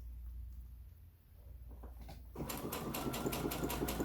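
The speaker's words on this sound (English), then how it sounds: "It will help you learn to stitch in a straight line and keep control of your stitching." Sewing machine stitching a lunchbox placemat: after a quiet start with faint handling, the motor starts at about two seconds and runs in a fast, even needle rhythm to the end.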